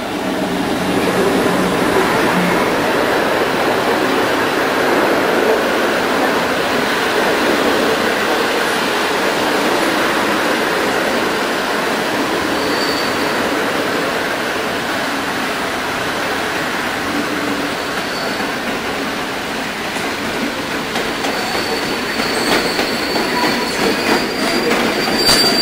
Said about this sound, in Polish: Pociąg Regio Express. Ze stacji Warszawa Wschodnia do stacji Kędzierza.